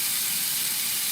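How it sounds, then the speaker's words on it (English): Beef skewers sizzle on a grill with open flame, a steady, dense hiss of frying fat and juices, close and continuous with no pauses. "You hear it sizzling?"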